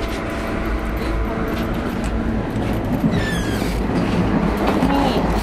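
An Indian train rumbles along with a rhythmic clickety-clack from the wheels, steady low noise throughout and a brief squeal of metal partway through.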